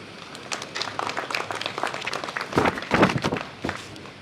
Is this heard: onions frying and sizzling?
no